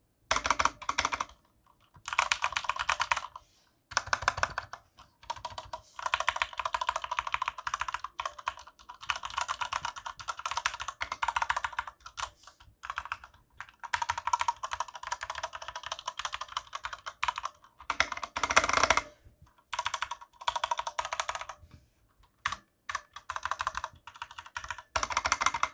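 Typing on a Corsair K65 RGB Mini, a compact 60% keyboard, runs as steady bursts of close, crisp key clacks with brief pauses between runs and no voices.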